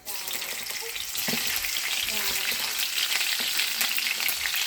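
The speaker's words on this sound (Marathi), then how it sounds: "नंतर त्याच्यात टाकते मी हिरव्या मिरच्या" Green chillies frying in a hot pan after cumin seeds, a loud, steady, crackling sizzle with occasional stirring scrapes, close up throughout.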